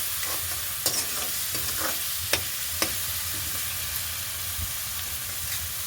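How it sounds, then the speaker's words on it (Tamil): Tomatoes and onions with salt sizzle steadily in a pan while being stirred, with a few sharp scraping clicks of the spoon against the pan standing out over the continuous frying hiss. "உப்பு சேர்த்தோன்னே கொஞ்சம் குயிக்காக இந்த தக்காளி பழம் வெங்காயம் எல்லாம் வதங்கி"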